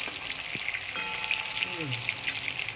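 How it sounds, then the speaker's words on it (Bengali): Continuous crackling sizzle of shrimp frying in oil, with occasional pops and a brief scrape of a utensil. "দেখুন লাল লাল করে ভাজা হয়ে যাচ্ছে"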